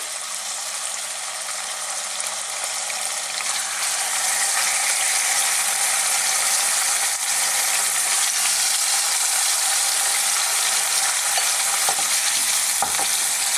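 Gingered pork sizzles in hot sunflower oil over a fairly high flame, a loud, steady frying hiss that builds after the first few seconds, with a couple of faint clinks near the end.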